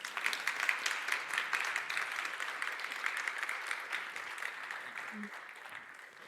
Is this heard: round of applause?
yes